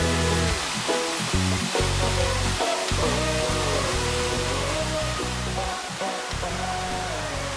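Rushing water from tropical waterfalls pours in a constant broad roar, close and steady, with intermittent low thumps and rumbles underneath.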